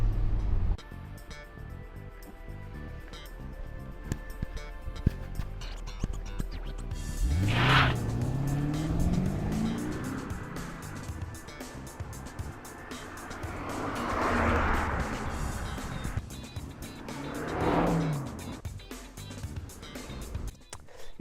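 A 1999 Mercedes-Benz SL500 R129 V8 engine pulls while driving, rising in a smooth growl after a quiet opening, then swelling again in two more revving passes, moderately loud with no talk over it.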